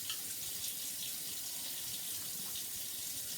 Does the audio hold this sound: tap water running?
yes